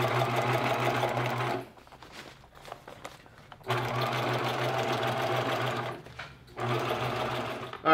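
A sewing machine stitches the top of a DIY backpacking chair closed, running in two long steady bursts separated by a brief pause with rustling fabric handling, close and loud.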